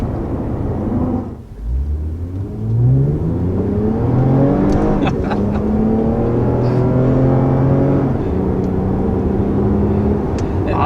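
A 2020 Toyota Camry TRD accelerating hard on a back road, the engine note climbing through the gears with a shift dip, then a loud sustained drone heard from inside the car.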